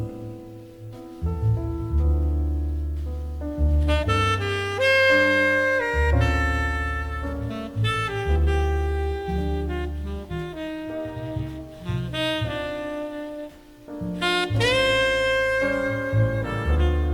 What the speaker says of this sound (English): what I am listening to right now is called modal jazz